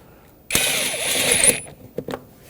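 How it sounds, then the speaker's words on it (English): Hose clamps are tightened by hand during a starter replacement on a 2006–2010 Hyundai Sonata 2.4L four-cylinder, producing a loud ratcheting burst for about a second, followed by a few separate clicks, close by with no talking. "now let's grab these clamps, tighten them up."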